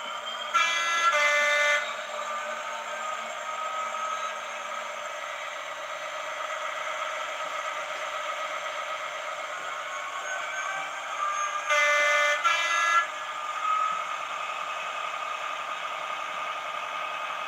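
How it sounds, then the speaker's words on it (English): A Class 66 diesel locomotive in a train simulator game pulls away, its steady engine drone shifting in tone with hissing bursts of brake release near the start and again later, with no talk. "as we move off, you'll hear the engine tone change, brakes release"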